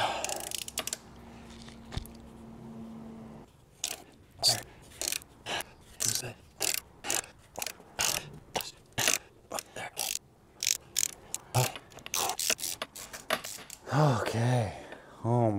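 A ratchet cranks a stubborn valve cover bolt on a BMW 535i E60, its clicks coming in close, uneven bursts of strokes, with a voice speaking at the start and a heavy, strained breath near the end.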